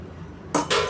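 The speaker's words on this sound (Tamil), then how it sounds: "இப்போ வந்து ரவையை வந்து இதில் போட்டுடலாம்." Wheat semolina tipped into a pot of boiling water while making wheat rava upma, giving two short, loud bursts of rushing hiss over a quiet background, with no talking.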